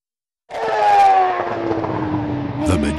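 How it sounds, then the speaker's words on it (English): A Panasonic Toyota Racing TF108 Formula One car bursts in loud and close, its high-pitched engine roaring steadily and falling slightly in pitch as it sweeps through corners at speed. "Majestic sight of Panasonic Toyota Racing's TF108 sweeping through corners at speed is the public face of Formula One"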